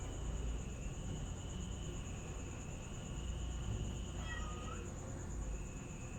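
A shy, skittish cat named Choco lets out a brief, faint meow over a steady insect-like hum and background noise indoors.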